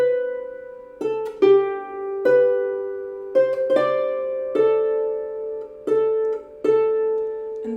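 A clear melody on a single reedy instrument, notes broken by quick grace-note cuts that give each phrase a crisp, ornamented articulation.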